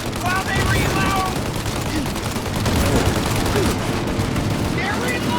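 Enemy gunfire in the crime game Mafia: Definitive Edition, dense volleys of rapid shots cracking continuously at close range, loud and relentless with shouted voices mixed in.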